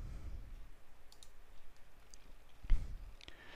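A computer mouse clicks a few times, sharp isolated taps close to the microphone, with a louder click near the end against a quiet background.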